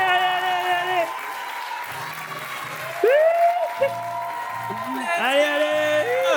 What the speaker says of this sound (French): Allez, on les applaudit s'il vous plaît.